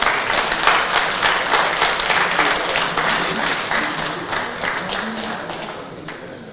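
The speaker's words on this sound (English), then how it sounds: "Give them a huge round of applause." Applause rings out at a bridge championship finals ceremony for the winning teams, a loud and sustained round of clapping from a large audience that slowly tapers off.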